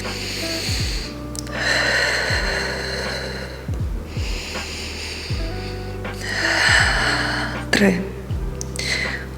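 Deep, forceful breaths are drawn and pushed out in slow repeated cycles while holding a plank during an abdominal and diaphragm workout, heard up close over steady background music.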